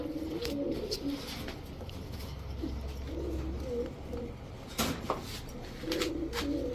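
Pairs of caged pigeons, high-flyer and racer breeds kept on a farm, coo in low rolling calls that repeat throughout, close and steady against a faint background hum.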